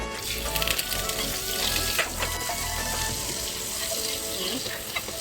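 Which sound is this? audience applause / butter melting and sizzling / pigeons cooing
butter melting and sizzling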